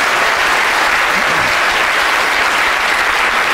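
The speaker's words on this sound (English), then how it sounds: "Another big round of applause for Dominic." Steady, loud applause from a large audience, continuous clapping filling the whole stretch without letting up.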